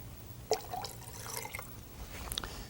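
Water poured into a blender holding yogurt, a quiet liquid trickle with a few drips and light splashes and faint clinks, close by, with no one talking.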